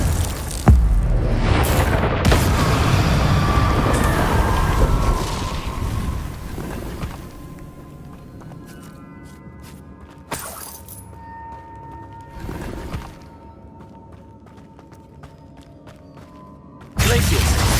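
Spell blasts from Glacius and Confringo in the Hogwarts Legacy video game, loud shattering bursts and booms at the start, then several sharper isolated impacts separated by quieter stretches with faint background music.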